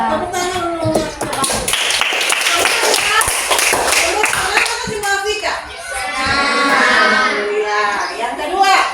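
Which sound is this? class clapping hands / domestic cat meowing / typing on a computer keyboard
class clapping hands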